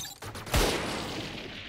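Turret gunfire in a competitive shooter game: a sharp, loud shot followed by a dense, sustained rattle of automatic fire that trails off, heard close with no talk over it.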